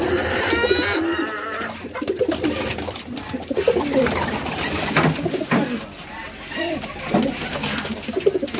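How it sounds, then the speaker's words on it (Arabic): Domestic pigeons coo repeatedly in their loft, soft throaty calls overlapping close by amid rustling and fluttering movement, with some background noise. "طبعا الحمام بتاعي بقالي اسبوع انا ما بجيبش كل، فانا بدق له عيش ناشف"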